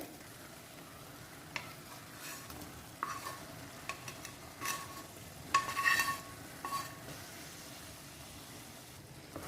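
Fried paneer is stirred into a mushroom gravy in a pan, with a low simmering sizzle broken by scattered scrapes and clinks of the spoon against the pan, some sharper strokes bunching near the middle.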